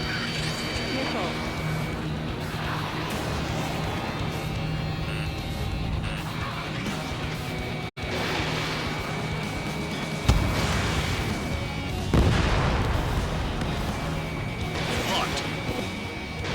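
Missile launches and hits in the Ace Combat 7 jet combat game, a dense roar of engine noise and explosions with a sharp crash near the middle and another burst later, loud throughout with a voice speaking over it.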